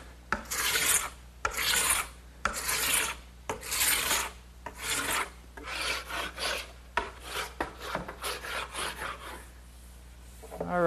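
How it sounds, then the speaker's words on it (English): A hand scraper drags across rough wooden stock, stripping off wax in a series of harsh, raspy strokes that start long and even and grow shorter and quicker, loud and close with no voices. "I'm just going to use a scraper and remove all that wax"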